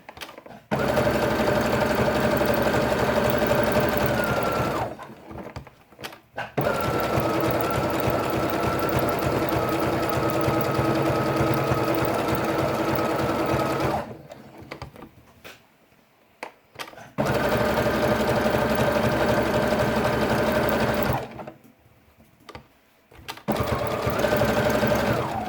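Sewing machine stitching felt around an arc shape for a baby's quiet book, loud steady whirring runs of several seconds each, broken by short pauses and small handling clicks, close and alone.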